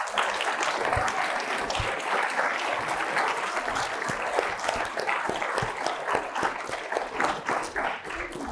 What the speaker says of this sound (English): Let's give a big round of applause to Andre Reed.